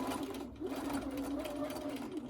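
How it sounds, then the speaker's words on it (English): A sewing machine fitted with a walking foot and open-toed foot stitches steadily through quilted fabric on a zippered project bag, a continuous close, even motor whir with rapid needle pulses and no pauses. "I'm gonna start right here and just sew in to the quilting."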